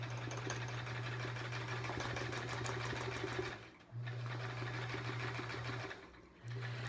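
Sewing machine stitching steadily during free motion quilting, a fast even hum and rapid needle chatter that stops briefly twice before starting again, close and fairly quiet.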